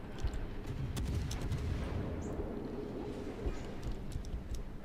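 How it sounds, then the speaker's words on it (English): Deep, rumbling naval gunfire from a warship firing on a Leander-class cruiser in World of Warships, a steady low boom-laden roar filling the whole stretch with no clear gaps between shots. "So let's start firing at this Leander"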